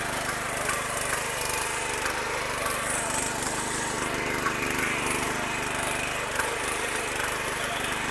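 A power tiller engine runs steadily while tilling soil for potato cultivation, a continuous loud, rough mechanical drone with gritty churning throughout and no talk.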